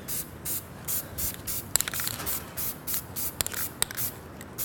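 Dupli-Color wheel coating sprayed from an aerosol can with a conical valve onto a car wheel: a series of short, close hissing bursts in steady rhythm, with light clicks and taps between them and no talking.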